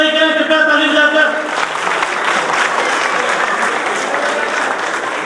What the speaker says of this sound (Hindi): इन छोटे बच्चों की हौसला अफजाई करें कृपया ताली बजाकर